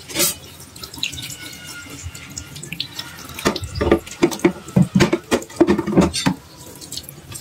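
Used knives and a chopping board are washed under a running tap, with a soft water stream beneath irregular clinks, scrapes and splashes as the items are handled close by.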